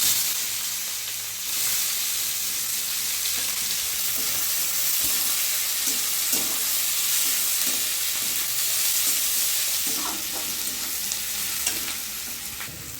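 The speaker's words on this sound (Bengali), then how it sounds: "পেঁয়াজটা ভাজা হয়ে গেছে" Chopped onion frying in oil with whole garam masala spices, dried red chillies and bay leaf for chicken dak bungalow, a steady broadband sizzle with intermittent stirring scrapes, close and continuous with no talk.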